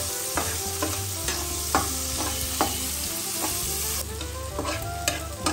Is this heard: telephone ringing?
no